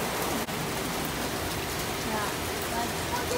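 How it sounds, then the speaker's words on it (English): Heavy rain pouring steadily during a Houston storm, a dense, loud, unbroken hiss of downpour throughout, with a brief voice speaking over it. "It's coming down even harder now."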